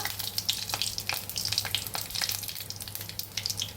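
Nigella seeds and bay leaf frying in hot oil, a dense crackling sizzle with rapid sharp pops spread across the whole stretch, close and moderately loud, no voices.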